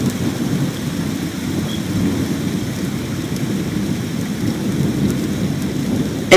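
Steady rain falls on a dark London street, a constant broadband hiss with low rumbling thunder underneath and no voices.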